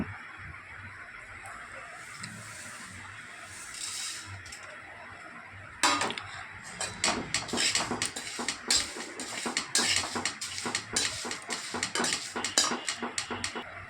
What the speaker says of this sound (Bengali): হালকা করে ভেজে নেব, খুব বেশি ভাজলে মশলাটা তিতো হয়ে যাবে।